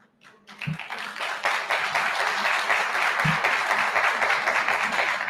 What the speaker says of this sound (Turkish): Lütfen ben ilçe başkanlarımı alkışlıyorum